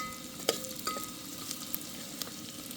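Onion frying in oil at a campsite, a soft continuous sizzle with a few light clinks of a utensil against the pan, fairly quiet.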